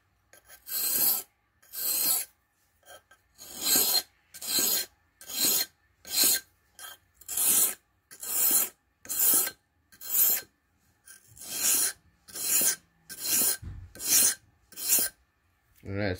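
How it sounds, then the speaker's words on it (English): A file rasps along the edge of a handmade neck knife blade during final sharpening, about twenty steady, even strokes, each a loud gritty scrape followed by a short gap. "Now, I'm just gonna make some final sharpening."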